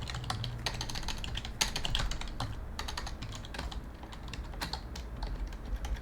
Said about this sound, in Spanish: estoy apretando todo mi teclado mal